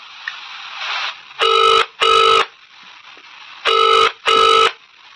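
An incoming call rings on a telephone in two pairs of bright electronic tones, each pair followed by a short pause. A faint hum of background noise sits between the rings.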